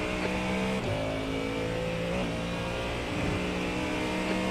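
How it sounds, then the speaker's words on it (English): A faster-class GT3 race car in the iRacing sim approaches with a steady, loud mid-pitched engine drone, shifting pitch as it closes in over about four and a half seconds, with no talking. "It's a faster class car approaching."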